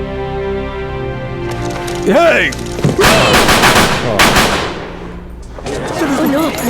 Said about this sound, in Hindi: कुछ हो रहा है, फायरिंग हुई है।